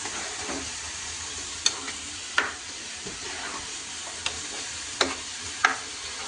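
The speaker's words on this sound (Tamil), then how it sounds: "இப்போ நல்லா கிண்டுங்க." Food being stirred in a cooking pan with a little water added, a steady soft sizzle and hiss under scattered sharp spoon taps and scrapes against the pan, close and unhurried with no speech.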